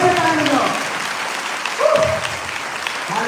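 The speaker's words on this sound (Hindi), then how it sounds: "जोर से ताली बजाओ।" A Sunday worship congregation claps loudly and continuously, a dense, close wall of hands, while a voice calls out over it at the start and again near the middle.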